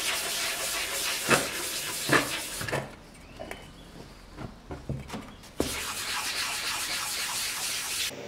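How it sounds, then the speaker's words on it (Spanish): Fine sandpaper rasps against a motorcycle part in steady, hissing strokes, pauses briefly with a few light knocks, then resumes sanding. "Así que lo voy a lijar con una lija fina."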